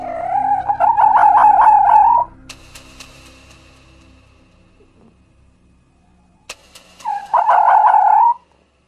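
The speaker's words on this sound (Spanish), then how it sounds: "Los zorros, al igual que muchos otros mamíferos, tienen gran capacidad para la comunicación en muchos tonos" Two loud, warbling fox calls, each about two seconds long, separated by a quiet pause with a couple of faint clicks.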